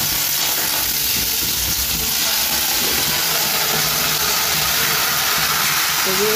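Raw meat goes into a hot pan of frying potatoes, setting off a loud, steady sizzle and hiss that carries without a break to the end.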